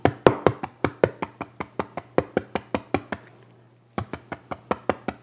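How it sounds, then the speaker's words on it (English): A paintbrush is tapped repeatedly against a hard surface, producing loud, evenly spaced thumping knocks up close, with a brief pause before the rapid tapping resumes. "I'm going to tap it into my brush"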